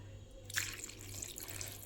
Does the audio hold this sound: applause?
no